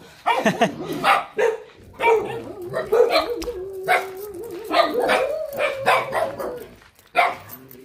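Several dogs bark and yip in a noisy, overlapping chorus, fairly close, with some whining between barks.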